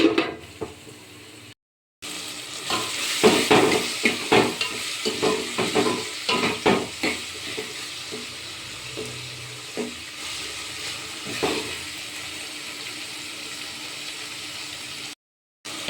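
Tomatoes and green chilies fry in a pan for onion chutney, with bursts of stirring scrapes and sizzle, louder at first and then settling into a quieter steady hiss, broken by two short silent gaps.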